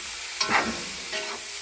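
Chicken curry mixture frying in a pan is stirred, giving two short scraping stirs about a second apart over a steady, close sizzle.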